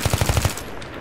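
A rapid burst of about six gunshots from an automatic weapon in the video game Battlefield 3, close and punchy, followed by a brief fading tail.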